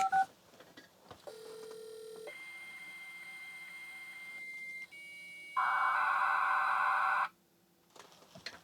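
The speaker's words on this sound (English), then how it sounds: "So let's dial back into the BBS, so to speak." A modem dialing into a BBS produces clear electronic telephone tones: a steady dial tone, then sustained beeps and DTMF tones of changing pitch, ending abruptly in near-silence.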